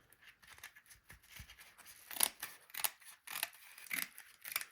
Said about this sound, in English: I'm going to cut the excess fabric